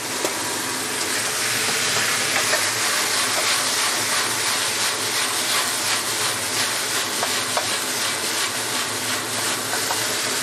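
Papaya sizzles and steams dry in a hot wok, a busy crackling hiss with small rapid ticks and scrapes running throughout, close and fairly loud with no talk.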